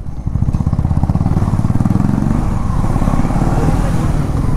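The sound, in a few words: KTM Adventure 390 motorcycle engine riding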